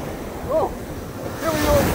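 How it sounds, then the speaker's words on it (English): Ocean surf breaking at Patong Beach in Phuket, a steady broadband wash with wind noise that swells near the end, and brief faint voices calling out over it. "I had a lot of fun breaking or fighting against the waves."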